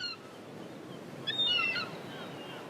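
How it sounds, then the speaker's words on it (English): Seagulls call by the ocean at Malibu. A few short, mid-distance squawks and cries rise over a constant low surf and wind background. "The beautiful seagulls."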